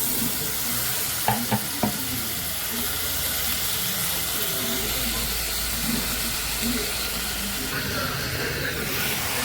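Tomatoes with salt sautéing in a pan for chandan batwa bhaji, a steady close sizzle and hiss with a few scraping stirs near the start, continuing evenly throughout.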